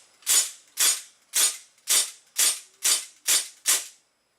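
A Tactical Force 6XP airsoft pistol fires 6mm BBs in eight sharp, evenly spaced snapping shots, about half a second apart, loud and close with no talk.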